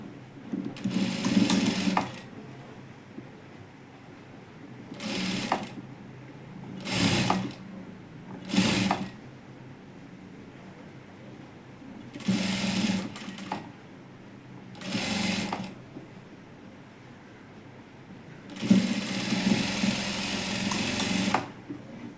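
A sewing machine stitches the lining and main fabric of a princess blouse together, running in repeated bursts of a few seconds each, with a longer final run and quiet pauses between, heard up close and alone.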